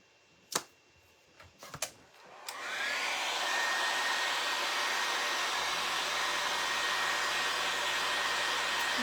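A hair dryer blows steadily on a craft project, its loud constant whir starting after a few light clicks and taps and continuing alone.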